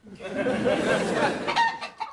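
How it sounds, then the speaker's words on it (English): Chickens clucking and squawking in a comedy scene, a short burst of close, lively fowl calls. "will you stop juggling those chickens?"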